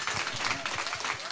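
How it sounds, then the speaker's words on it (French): A church congregation applauds at a gospel event, a dense wash of many hands clapping at moderate distance, continuous through the short moment with voices blended underneath. "j'aimerais que nous puissions exagérer en applaudissements, s'il vous plaît."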